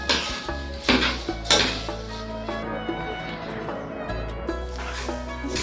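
Pot and utensils clatter and clink on a home stove while broth is poured in and a lid set on, with several sharp knocks early on and a steady kitchen hum beneath; a voice talks over it.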